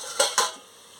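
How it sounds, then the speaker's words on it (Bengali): A cooking-pot lid comes off a pot of simmering potato and ivy gourd chorchori: two quick metallic clinks close together, then a faint steady hiss that trails away, with no voices. "দেখুন, এবারে আমি ঢাকাটা খুলে নিচ্ছি।"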